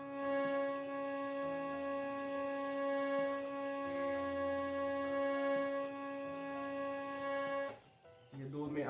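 Harmonium reeds buzz on faulty notes, held as a long, steady drone with a rasping edge. It fades out abruptly near the end, followed by a brief clatter.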